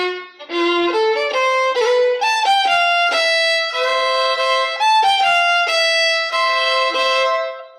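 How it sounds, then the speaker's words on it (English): A Celtic fiddle orchestra at rehearsal plays the second last bar of a tune with a high A, a bright run of bowed notes moving in steps, loud and close with no voices. "So the second last bar is going to sound like this."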